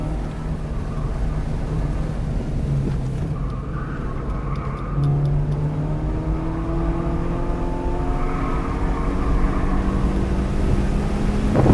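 A Toyota Supra accelerates hard in fifth gear around a race track on cold tires, its engine drone climbing steadily in pitch with a loud, continuous roar that swells midway through.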